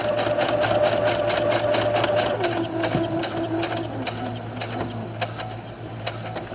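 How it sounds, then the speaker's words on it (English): A sewing machine stitches a pocket flap on a Star Wars jumpsuit, running in a fast, steady mechanical whir with a constant hum and light clicks, briefly changing pace partway through. "And then just lightly stitch."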